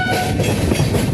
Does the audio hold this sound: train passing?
yes